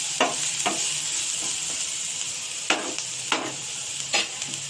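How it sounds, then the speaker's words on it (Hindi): Sandwich filling fries in a pan with a constant bright sizzle, broken by several scraping stirs of a utensil against the pan at irregular intervals. "अल्प समय फ्राई होगा"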